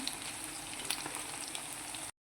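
Chicken pulao simmers in a pot, giving a steady, even bubbling hiss that stays level for about two seconds before cutting off abruptly.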